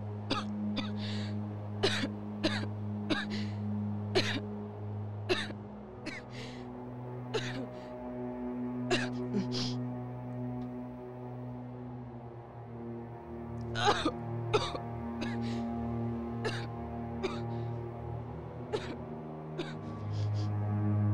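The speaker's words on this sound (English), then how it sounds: "has been coughing like this for the past 30 minutes" A woman coughs over and over in short, sharp bursts, sometimes in quick clusters with brief pauses between, over a steady low hum.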